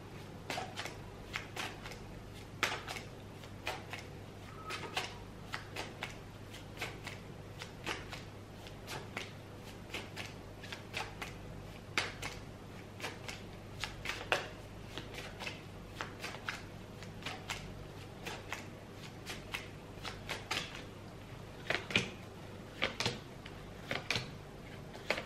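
Tarot cards being shuffled in steady repeated riffles and soft snaps, close and fairly quiet, continuing rhythmically with no talk over it.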